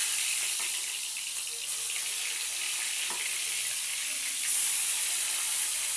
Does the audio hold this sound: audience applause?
no